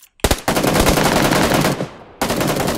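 Loud automatic gunfire from a gun in the mobile shooter PUBG Lite, a dense sustained burst after a couple of single shots, briefly dropping off before resuming.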